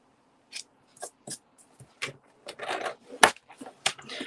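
Paper is scored with a scoring board for a Christmas speciality paper craft project: a close, irregular run of short, dry scraping strokes and clicks separated by quiet gaps.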